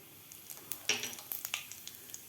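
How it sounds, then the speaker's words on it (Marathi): Half a spoon of cumin seeds drops into two spoons of hot oil in a kadai, giving a soft, crackling sizzle with scattered small pops and spits, fairly quiet and close. "तेल आपलं गरम झालेलं आहे तर यामध्ये घालायचे आपल्याला अर्धा चमचा जिरे"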